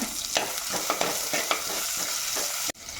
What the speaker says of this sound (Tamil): இப்போ நம்ம கட் பண்ணி வச்சுருக்கிற வெங்காயத்தை சேர்த்துக்கலாம்